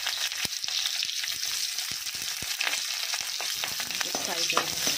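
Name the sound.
onions frying in a hot kadai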